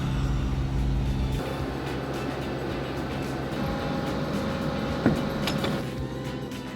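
An old truck labors up a hill in first gear with a heavy machine loaded on the back, its engine a steady, strained drone close by, with a brief knock near the end.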